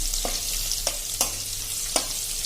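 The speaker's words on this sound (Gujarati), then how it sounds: "આ બધું આપણે એકદમ તેલમાં સાંતળી લેશું." Chopped garlic, ginger and green chillies sauté in hot oil over medium flame, a constant bright sizzle punctuated by three or four sharp spatula taps against the pan.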